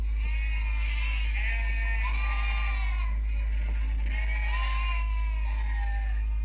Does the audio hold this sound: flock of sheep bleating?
yes